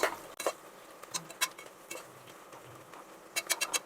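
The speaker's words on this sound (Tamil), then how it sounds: "அதனால் நல்லா வதக்கணும்" Onions for chicken biryani are sautéed and stirred in a pan, with soft intermittent scrapes and clinks of the spoon against metal over a faint sizzle, quiet and close with no talking.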